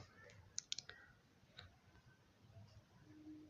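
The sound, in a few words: computer mouse click while filling an online form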